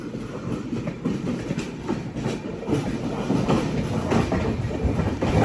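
The Mangala Lakshadweep Express, running from Hazrat Nizamuddin to Ernakulam, rolls over a railway crossover, its wheels beating a steady loud clickety-clack over rumbling carriages close by, with no voices.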